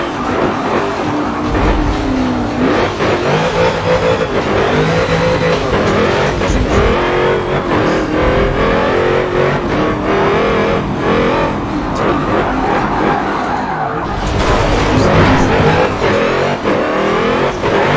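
A drift car in a Need for Speed racing video game revs hard and continuously, engine pitch climbing and falling through gear changes with squealing tires, loud and constant throughout.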